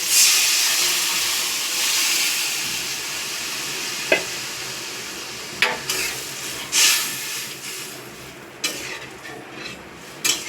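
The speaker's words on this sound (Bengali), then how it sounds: "যে ডালটা আমি সেদ্ধ করে রেখেছি সেই ডালটাকে আমি এবার কড়াতে দিয়ে দিচ্ছি" Boiled lentils hit a hot pan (karahi) already holding fried ingredients and sizzle loudly, with a steady frying hiss, stirring scrapes and a few sharp utensil clinks against the pan; close and without talk.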